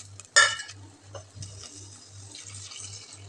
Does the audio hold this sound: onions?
yes